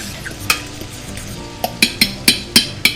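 Bacon mashed potatoes sizzle and pop on a stovetop while being stirred, with a steady frying hiss and a string of sharp, close pops and clicks in an irregular rhythm.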